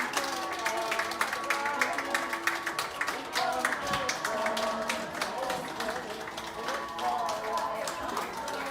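Hospital staff clap and cheer as recovered patients are discharged, a dense, continuous patter of many hands close by over music, with a voice talking over the applause.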